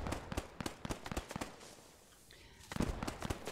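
Machine gun fire in the video game Post Scriptum comes as rapid sharp bursts of close shots, pausing briefly before another quick burst.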